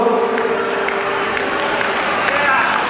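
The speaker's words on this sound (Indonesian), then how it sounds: "Tepuk tangan untuk Ketua HUT." Steady applause from a crowd at a clan association's sixth anniversary celebration, continuous and fairly loud, with voices mixed in underneath.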